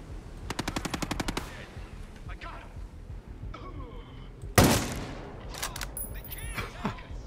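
A short burst of rapid machine-gun fire in Ghost Recon Breakpoint rings out early, followed by a loud single blast and scattered game noises, with players talking over it.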